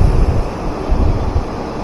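Water pours forcefully over Silver Cascade, a waterfall near Kodaikanal, as a steady, loud broadband roar with gusty wind buffeting the microphone throughout.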